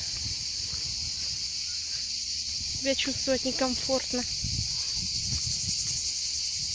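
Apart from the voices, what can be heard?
cicadas singing, a loud chirring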